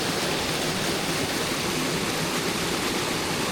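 A steep mountain brook trout stream just above a waterfall in Virginia, a loud, steady, close rush of flowing water with no breaks.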